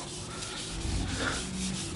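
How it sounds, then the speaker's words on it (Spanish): Sanding on the primed painted body of a Tiguan in an auto body shop makes a steady, close abrasive rubbing that continues without a break, with no voices. "ahorita se le está dando una lijadita"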